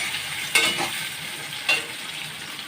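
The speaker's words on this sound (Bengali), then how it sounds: "ভাজা চলছে আলুগুলো।" Spiced potato pieces coated in chilli, turmeric and salt fry in hot oil, giving a steady close sizzle broken by two sharp stirring scrapes.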